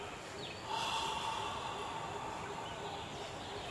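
A single forceful breath pushed out through the nose and mouth during morning chi kung practice gives a soft, sustained airy rush, close and quiet against a still room.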